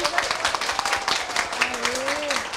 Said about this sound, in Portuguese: E eu quero uma salva de palmas para vocês.